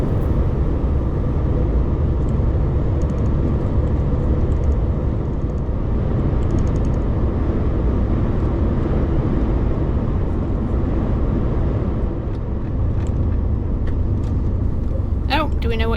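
A right-hand drive car travels along a rural Spanish road with a steady, loud engine and road rumble throughout as it overtakes, a continuous drone from inside the vehicle.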